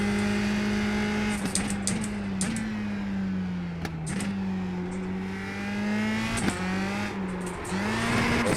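A USF2000 open-wheel race car in iRacing holds a loud, steady engine drone that rises and dips with short throttle lifts and gear shifts, alone with no talk.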